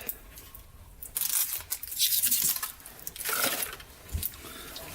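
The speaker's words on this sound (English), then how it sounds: "take off the sticker" A sticker being peeled off a part during an ATV teardown, heard as several bursts of dry tearing and crackling, fairly close and clear, with quieter pauses in between and no talking.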